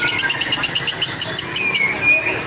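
A songbird sings nearby in a rapid series of bright, repeated chirps, followed by a longer whistled note. A low murmur of background noise sits beneath it.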